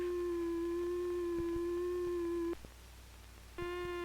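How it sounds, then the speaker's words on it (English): A steady electronic tone with a slightly hollow, buzzy edge sustains for over two seconds, stops, then a brighter tone begins. "Another oscillator produces a triangular wave"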